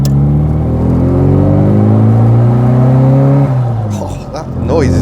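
A 1973 Wood & Pickett Margrave Mini's engine runs loud and close, its pitch climbing steadily under load before the revs drop and settle. The tone rises again at the very end, with faint talk mixed in.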